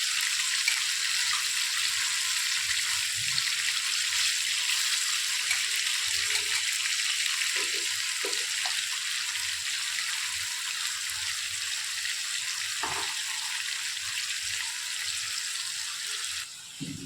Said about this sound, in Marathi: जेवढे पीस ॲडजस्ट होतील तेवढे मी फ्राय करून घेते.